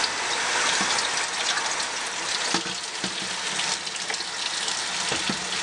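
Running water from a tap streams steadily while a makeup brush is rinsed beneath it, a soft, close hiss broken by small splashes and taps.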